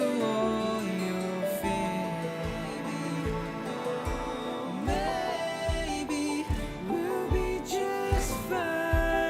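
Two pieces of music overlap as a crossfade made in Pro Tools, one fading out while the other fades in. Steady drum hits and sustained tones carry through the blend, with no talking.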